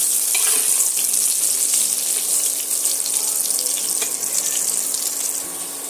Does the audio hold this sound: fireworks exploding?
no